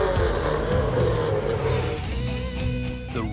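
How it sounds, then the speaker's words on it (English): Race car engine on a Grand Prix course roars loud and steady throughout, a dense low drone with rising and falling pitch as the car accelerates, ending in a brief higher whine. "The roar of a race car engine, it still gives me goosebumps"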